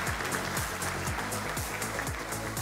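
Applause from a seminar audience at a 2023 cloud computing and AI summit, a dense steady patter of clapping lasting a few seconds over music, with no voices.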